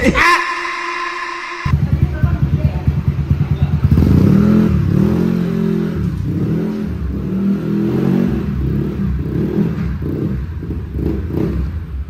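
A Honda Vario turbo motorcycle revs on a dyno, its engine roaring loud and close in a sustained, surging drone that rises and wavers for several seconds after a brief quieter start.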